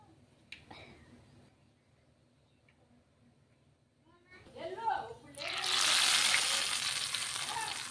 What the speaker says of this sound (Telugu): పోపు వేసేసుకుందాం.